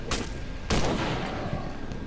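Gunfire in the video game Cry of Fear, a quick volley of sharp shots with a loud burst in the middle, heard alone at close range.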